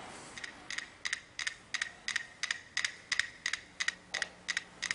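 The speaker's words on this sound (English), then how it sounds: "these metronomes are going to click" Several metronomes tick out of phase, producing a sharp, fairly quiet series of clicks about every third of a second, some doubled where two beats nearly coincide, with no voices over them.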